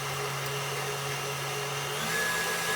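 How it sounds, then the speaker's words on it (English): A stand mixer with a whisk attachment beating sugar and eggs holds a steady, close motor whine with a constant hum that brightens slightly toward the end, and no one speaks. "put the sugar eggs. I'm going to put the whisk attachment."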